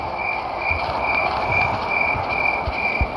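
A train moves in the mobile horror game Granny 3, giving a steady rumbling roll with a constant whining tone and scattered low clunks throughout, with no talk.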